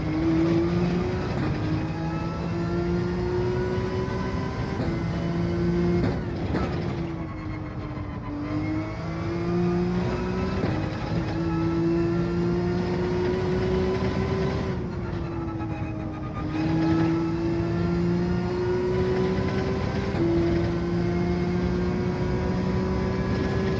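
A Gr.3 racing car in Gran Turismo 7 roars continuously at high revs, its engine pitch climbing through gears with brief dips on shifts and braking, loud and steady.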